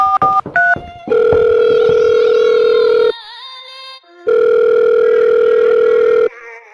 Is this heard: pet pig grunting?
no